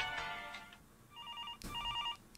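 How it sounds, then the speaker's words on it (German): In the indie horror game At Tony's, a telephone rings in two short warbling electronic bursts, moderately loud and alone after a faint earlier sound. "Oh, der Telefon ist ringing."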